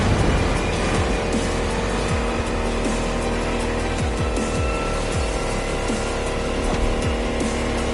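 A car engine roars steadily at speed through a stormy off-road drive, loud and close, with repeated pitch sweeps of revving and shifting and a dense rushing noise layered beneath.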